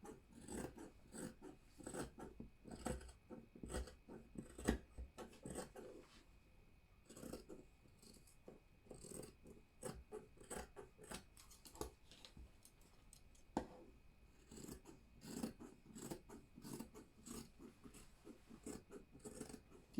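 Scissors cut through Ankara fabric for a baby dress, with a steady run of soft snipping and rasping blade strokes close by and fairly quiet, without talk.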